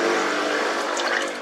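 Hot water pours from a coffee machine into a cup, a steady loud hiss and gush with a mechanical pump hum beneath, continuous and close.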